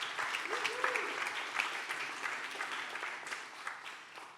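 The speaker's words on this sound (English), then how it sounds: "Let's give them a round of applause" Steady applause from a panel audience at a tech event, sustained dense clapping at moderate volume throughout, with faint voices mixed in.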